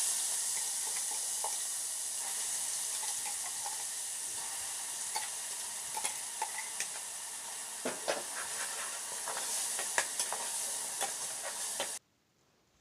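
Ground masala sizzles loudly as it is added to hot oil with curry leaves for green tomato chutney, a steady close frying hiss with crackling pops, cutting off abruptly near the end.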